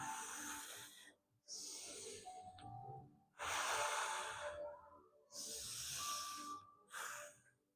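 Slow, calm breathing during a yoga session: several long, close, airy inhales and exhales in an even rhythm, each separated by brief silence.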